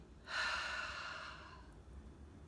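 A single deep inhale, soft and breathy, rising quickly and slowly fading over about a second, close but quiet against faint background noise.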